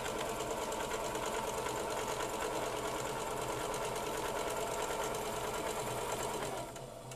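A sewing machine stitches over the elastic of a fabric face mask, a continuous close mechanical whir with a rapid rattling pulse that runs unbroken and eases off just at the end.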